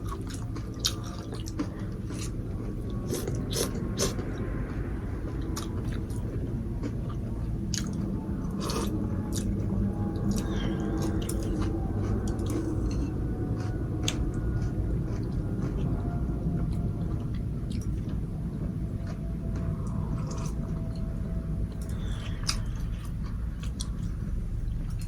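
Someone chews crunchy octopus and mushroom tempura with noodles close up, a continuous run of wet crunching and squishing bites with faint clicks, and no talking.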